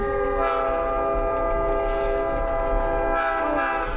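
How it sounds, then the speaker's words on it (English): Classic 20th-century passenger train passing on the line between Portland and Seattle, its loud multi-tone horn sounding steadily over rumbling wheels, with brief louder hissing bursts along the way. "This is classic, authentic, like 20th century train."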